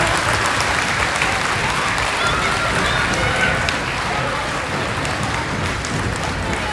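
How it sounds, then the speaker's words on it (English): Crowd of middle school students clapping for their teachers in a school gym, a dense, sustained wall of applause that stays loud and steady throughout, with scattered voices mixed into the noise. "Everybody, clap for your teachers right now."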